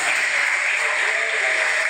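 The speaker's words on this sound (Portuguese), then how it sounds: "dê uma linda salva de palmas para Cristo Jesus" A church congregation applauding together, a dense even wash of clapping that holds steady and fills the room without a break.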